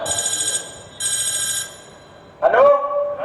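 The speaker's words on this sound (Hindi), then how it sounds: "लगा फोन लगा रहे, लगा।" A telephone rings in two steady bursts with a pause between, loud and near, during a Malegaon comedy stage play, followed by a short vocal exclamation.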